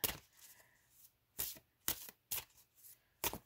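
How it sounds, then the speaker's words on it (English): A tarot deck being shuffled by hand in quick bursts, crisp riffling slaps separated by short pauses, close and fairly quiet. "Do a quick shuffle."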